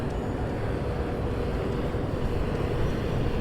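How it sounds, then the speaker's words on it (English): Strong wind buffets a mountain summit beside the McDonald Observatory's 107-inch telescope dome in the Davis Mountains, a steady close roar of gusts on the microphone with no voices. "It's quite windy up here in front of that 107-inch telescope."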